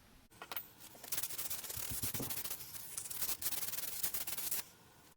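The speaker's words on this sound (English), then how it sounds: "So I'm just going to break this edge slightly, probably just with some sandpaper." A polyurethane control-arm bushing edge is sanded by hand with sandpaper, giving a steady close rasping scrub in quick repeated strokes for several seconds with no talking.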